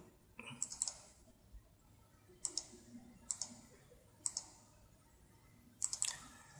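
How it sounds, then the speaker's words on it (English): A computer mouse is double-clicked several times: faint, crisp clicks come in close pairs every second or so in a quiet room. "I'm double clicking to end it"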